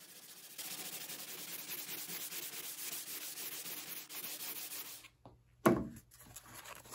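Continuous hand sanding of old Jacobean buffet wood furniture with 220 grit sandpaper, a steady close rubbing scrape lasting about five seconds, followed by a brief handling knock.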